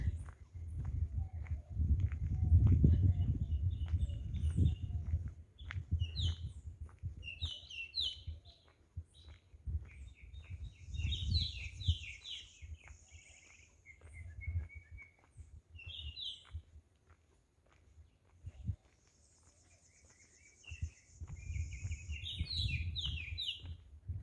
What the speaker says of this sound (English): You hear the birds now?